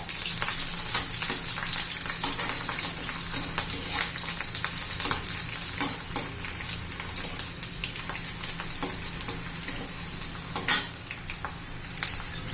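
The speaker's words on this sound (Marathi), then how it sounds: "असे तेलात परतून घ्यायचे, म्हणजे छान अशी पेस्ट येते आपल्या भाजीला" Onion paste sautéing in oil for an egg curry made with yogurt: a continuous hissing sizzle like light rain, with faint spatula stirs scattered across it, steady and close, no speech.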